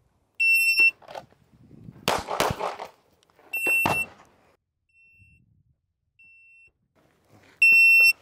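Electronic start beeps from a shooting drill timer, several short loud high-pitched tones spaced across the clip, each followed by sharp gunshot bursts, outdoors at a firing range.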